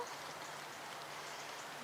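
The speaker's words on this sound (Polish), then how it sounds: "ponieważ deszcz pada" Steady rain falling outdoors, a continuous even hiss of drops with no voices, fairly quiet and close.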